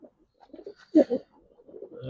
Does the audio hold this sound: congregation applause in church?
no